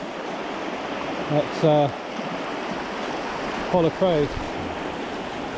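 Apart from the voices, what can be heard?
river rapids on the River Usk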